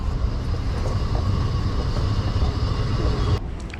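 Green Line metro train rumbling steadily at a station, a continuous low-pitched roar with rail noise that holds loud and even, then drops away sharply near the end.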